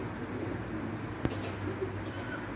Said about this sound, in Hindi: कबूतर